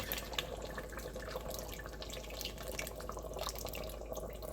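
Liquid pours steadily into an Instant Pot while making Wagyu beef brisket curry, a continuous close trickling splash without talk.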